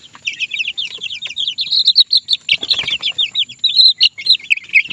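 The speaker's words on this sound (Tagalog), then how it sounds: "Nagtalunan yung mga sisiw natin." Two-week-old chicks chirp in a dense, nonstop chorus of rapid high peeps. The chirping is loud and close, with a few brief rustling sounds underneath.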